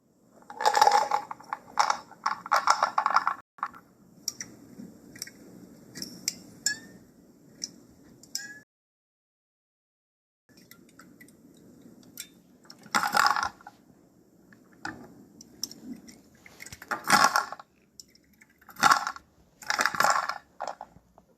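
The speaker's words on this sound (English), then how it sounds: "So that clacking sound you heard are tiles falling off the wall as he takes the glove off." Scattered hard clacks and rattling knocks of tiles falling off a wall come in irregular bursts, with quiet gaps between and a stretch of near silence in the middle.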